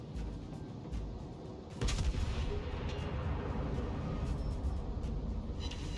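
Battleship turret guns firing in World of Warships, HMS Duke of York in a naval battle, heavy booming artillery blasts rolling continuously, with a louder burst about two seconds in over a dense low rumble.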